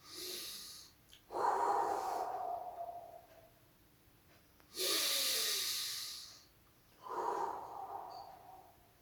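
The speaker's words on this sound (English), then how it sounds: "Get started breathing deep within your belly." Deep belly breaths during a meditation exercise, slow loud airy inhales and exhales through the nose, three long breath swells with quiet pauses between them, close and unaccompanied by talk.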